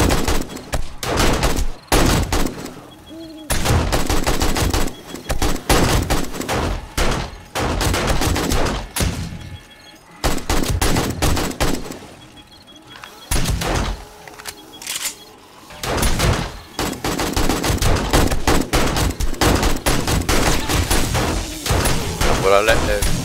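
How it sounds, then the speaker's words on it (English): Automatic gun turrets in the survival game 7 Days to Die fire loud, rapid, sustained bursts, chattering almost continuously with a few brief lulls, while someone talks over them at times. "I'll let the guns deal with him."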